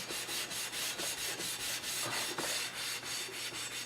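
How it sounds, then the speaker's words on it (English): Fine steel wool buffs rust scale off a rifle barrel during rust browning, a close, soft rhythmic rubbing repeated in quick even strokes. "You want to use fine steel wool, right? Because we really just want to buff it."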